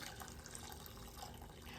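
Hot water pours steadily into a ladle of jelly powder, a faint continuous hiss and splash with no talking.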